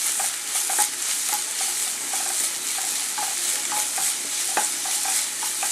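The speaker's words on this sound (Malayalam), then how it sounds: "പച്ചമുളക് ആവശ്യത്തിന്, കുറച്ച് കറിവേപ്പില, ഇളക്കി കൊടുക്കാം." Green chilies and curry leaves frying in a pan while being stirred, a steady close hiss of sizzling oil with light regular scrapes and taps of the spoon and no talking.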